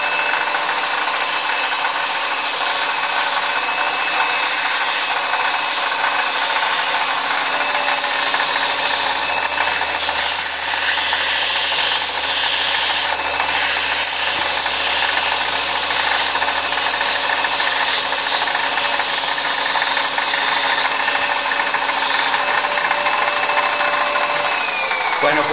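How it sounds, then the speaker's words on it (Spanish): A metal lathe spins a metal part at high speed while worn sandpaper polishes it, giving a steady loud broadband whir and rasp throughout. A deeper motor hum joins partway through. "con esta voy a pulir a gran velocidad"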